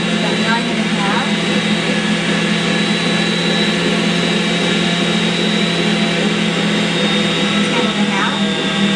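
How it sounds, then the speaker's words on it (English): A stand mixer churns homemade bread dough as it thickens with added flour, its motor giving a loud, steady, close whine and hum that never lets up, with a low drone underneath. "As you can hear, the motor starts to grind down a little bit as the dough mixture gets thicker"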